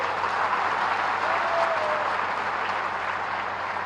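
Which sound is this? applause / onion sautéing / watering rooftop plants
applause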